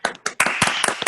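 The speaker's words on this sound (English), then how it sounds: "I invite everyone to give him an applause" Scattered hand claps from an audience at a diversity-themed talk, a few sharp separate claps followed by denser, sustained clapping close by, brief and moderately loud.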